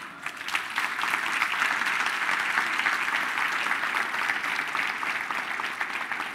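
Audience applause at a live stage show fills the whole stretch, a dense, steady wash of many hands clapping at an even level with no voices standing out.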